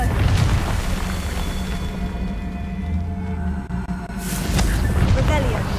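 A Confringo fire spell from Hogwarts Legacy bursts with a loud, booming blast in the midst of the game's rumbling, layered soundscape, and a second burst follows near the end.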